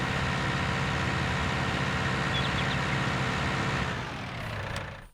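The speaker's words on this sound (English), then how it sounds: "I'm gonna lower the volume on my tractor because it's bleeping loud" A tractor engine in Farming Simulator 19 on the Pacific Northwest map drones loudly and steadily at idle, a dense low rumble that eases and fades over the final second, with no talk.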